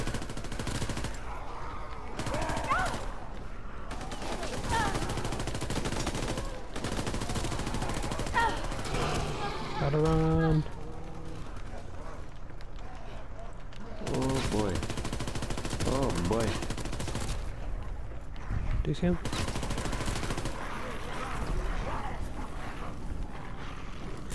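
Rapid bursts of automatic gunfire in a video game, loud and repeated in clusters across the clip, mixed with game sound effects, music and occasional voices.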